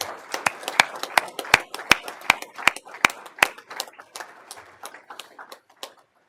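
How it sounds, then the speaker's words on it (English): Applause for family members and newly sworn officers at a ceremony, a round of sharp hand claps in a loose rhythm that swells, then thins out and fades over several seconds. "how about a round of applause for our family and new officers?"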